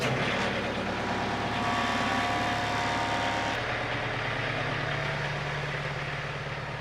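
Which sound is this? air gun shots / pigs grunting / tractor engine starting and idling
tractor engine starting and idling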